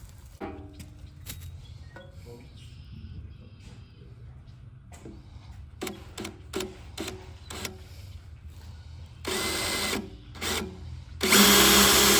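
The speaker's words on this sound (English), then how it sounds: "All right, so we got the tank drilled." A power drill whirs in repeated short bursts among clanks and handling noises, drilling a fuel tank on a 1966 Chevrolet C10, ending in longer, louder drilling runs.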